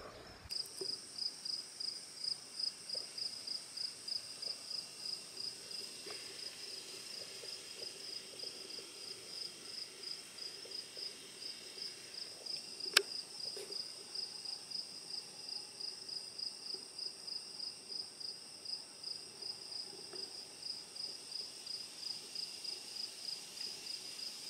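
Crickets chirp in a field, a steady high-pitched pulsing trill repeating in regular bursts, quiet and continuous, with one brief sharp click midway.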